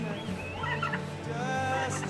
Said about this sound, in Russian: в этом микрозоопарке, я бы так назвала его, есть 2-3 разновидности птиц и баран какой-то